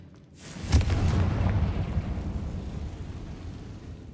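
Confringo blasting spell in Hogwarts Legacy: a deep, rumbling explosion bursts in after a brief silence, with a sharp crack at its peak, then a long roaring tail that slowly fades.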